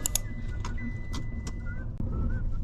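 Car seatbelt warning chime sounding inside a car, a short series of repeated electronic tones heard over a low cabin rumble before stopping once the belt is fastened.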